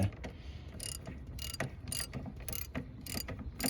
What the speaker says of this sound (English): Set your ratchet up there.